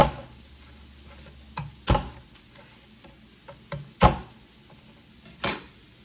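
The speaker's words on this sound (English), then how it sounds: "Garlic. So I'm just gonna smash these with my knife." A kitchen knife smashes garlic cloves on a cutting board: three sharp, solid thumps spread across several seconds with a few lighter taps between them, close and fairly quiet, with no voices.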